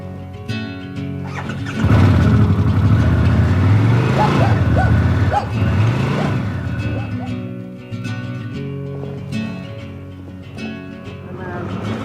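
A 2021 Harley-Davidson Pan America motorcycle rides by close, with a deep engine rumble that swells and revs through a few gear changes and then settles. A voice talks over it at times.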